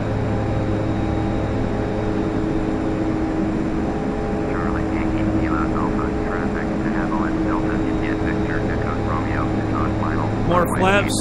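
DHC-6 Twin Otter twin-engine propeller aircraft in the FSX flight simulator, a constant loud droning engine hum throughout, with a person talking over it in the later half.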